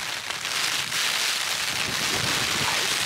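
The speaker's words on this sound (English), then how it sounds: "So the rain and the wind definitely come back again." Rain and gale-force wind in the West Highlands of Scotland roar in a steady, loud wash of noise, with the wind buffeting the microphone in gusts and no one talking.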